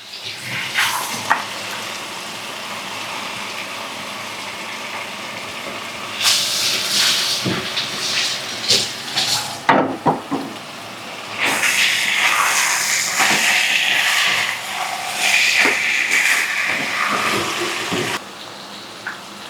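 Cooked chicken sizzles and hisses loudly in a hot pan while chicken manchurian is prepared, a steady frying roar with bursts of spattering and clinks, close and continuous without speech.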